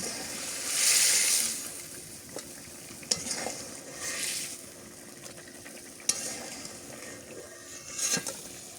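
Prawns and small river fish cook with spices in a pan, stirred in bursts of scraping with a soft sizzle beneath and a few sharp utensil clinks, fairly close and without any talk.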